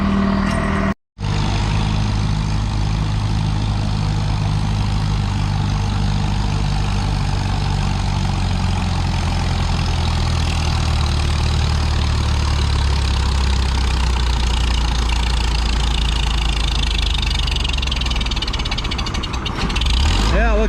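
Stock vintage Farmall H tractor pulling a load down a track, its engine droning steadily and loud for about twenty seconds, dropping away near the end.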